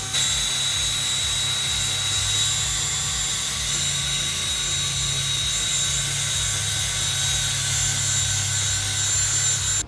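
A polisher buffs the headlight of a Nissan Skyline R33, giving a steady, continuous whirring drone with a high whine that holds evenly throughout, loud and close, with no talk.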